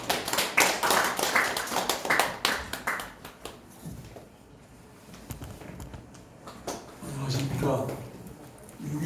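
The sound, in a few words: big round of applause from the audience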